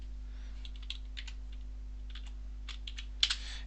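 Keys clatter on a computer keyboard in short, uneven bursts of clicks over a faint steady hum, louder toward the end.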